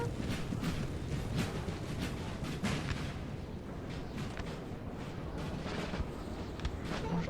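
Battlefield gunfire and artillery from the Napoleon Total War III game crackle and thud continuously, with dense overlapping musket volleys and distant booms rolling under a steady rumble.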